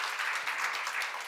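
A church congregation at a seminar service claps together, a brief, fairly quiet burst of applause heard from a distance.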